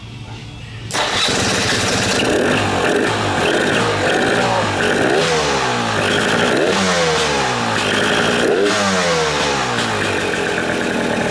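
A 300 two-stroke motorcycle with a freshly installed top end (new head and piston) catches at the button press after about a second, then runs loud and close with a steady crackling idle and a few short rev swells.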